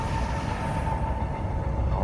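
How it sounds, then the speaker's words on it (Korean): A train passes by a mushroom farm, a steady low rumble with a faint sustained tone running evenly through the short stretch, heard from some distance with no talk. "네, 지금 기차가 지나가고 있는데요."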